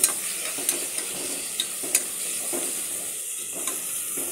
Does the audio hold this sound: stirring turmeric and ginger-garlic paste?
yes